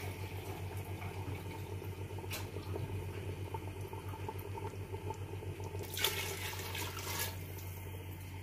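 About six glasses of water being poured into a cooking pot of chana pulao, a continuous faint splashing over a low steady hum, with a brighter gush near the end.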